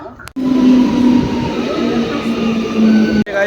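A train rumbles at a railway station with a steady loud drone and a sustained low tonal hum, cut off briefly by sharp clicks at start and end, with the noise of people waiting around it.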